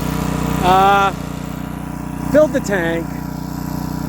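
A DR Premier 26 trimmer mower's engine runs with a steady low drone throughout, while someone talks briefly over it.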